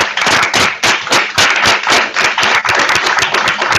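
Audience clapping after a startup launch talk, a dense burst of many hands with a busy, uneven rhythm, loud and close, and no voices over it.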